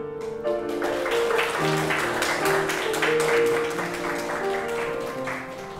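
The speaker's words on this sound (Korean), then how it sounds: "다시 한번 격려의 박수 부탁드리겠습니다" A crowd at a church training-course completion ceremony claps steadily after a testimony, the applause even and sustained over soft tones of background music.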